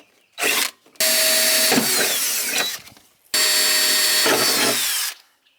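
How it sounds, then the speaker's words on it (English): A handheld power drill bores holes in a Subaru to mount speakers. Two long whining bursts follow a brief opening blip, close and loud, with the motor pitch shifting as the bit bites through the metal. "now I will go ahead and drill."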